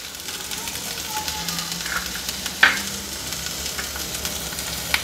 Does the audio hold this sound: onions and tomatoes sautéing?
yes